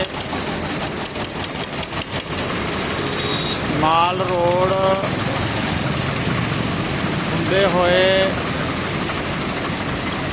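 Tractors rumble and idle together during a farmers' tractor parade through Bathinda streets, a loud continuous low engine drone with rattling knocks, while someone speaks over it and horn-like tones rise briefly twice.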